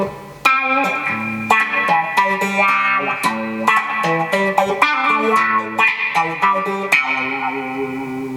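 An electric guitar played through a wah-wah pedal imitates a bass line, with a loud, punchy sequence of low repeated notes whose tone sweeps and quacks, alone without talk.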